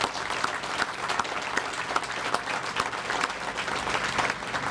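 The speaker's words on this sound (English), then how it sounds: "So let's give Mike Coe a round of applause." An audience applauds for Mike Coe at a community event held at the Mast General Store in Winston-Salem, a steady, dense wash of clapping that holds throughout with no pauses.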